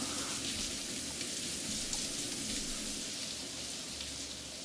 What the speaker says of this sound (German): Ach, mal duschen.